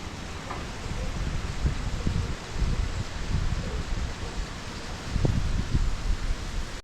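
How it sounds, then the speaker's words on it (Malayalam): Steady broadband gusting wind buffets the microphone during an early-morning bicycle ride, a continuous loud rush with occasional low thumps, no voices. "കാറ്റുണ്ട് കേട്ടോ, നല്ല കാറ്റുണ്ട്"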